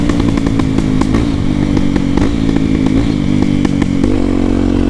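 A Honda XR Tornado motorcycle fitted with a Belparts Classic exhaust runs close by, with a loud, raspy engine note pulsing steadily, rising slightly, then settling into a deeper idle near the end.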